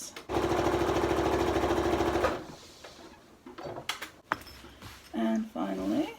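A sewing machine runs in a fast, steady burst while stitching a seam on an upcycled zip pouch, then stops, followed by scattered handling clicks and brief talking.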